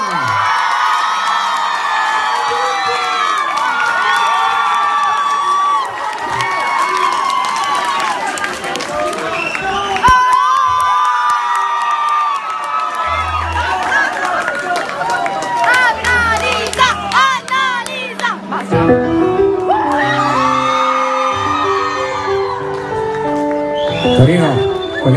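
A live concert crowd at Hiroshima Mon Amour in Turin cheers, whoops and applauds loudly for the duo, while shouts and a voice on a microphone rise above the constant roar.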